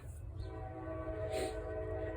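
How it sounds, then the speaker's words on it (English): Train passing nearby with its horn sounding, a low rumbling drone under a sustained horn tone that swells briefly, moderately loud. "Is the train coming?"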